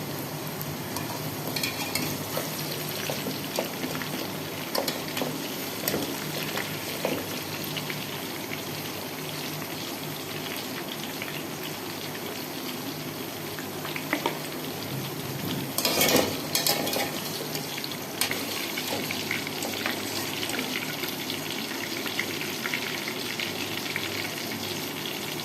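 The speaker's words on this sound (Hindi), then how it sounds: "हम अपनी भिंडी सबसे पहले फ्राई कर रहे थे।" Okra (bhindi) frying in hot oil for a dhaba-style masala dish gives a steady, dense crackling sizzle throughout, close and fairly loud, with a brief louder burst midway suggesting a stir.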